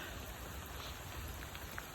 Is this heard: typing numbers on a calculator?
no